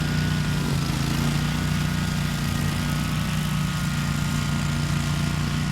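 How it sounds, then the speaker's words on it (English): A DR 17 HP Pro-XL tow-behind mower, pulled by a Polaris Ranger, cuts grass on steep hilly ground with a steady, droning engine hum that holds an even level throughout. "the mower is still cutting it clean"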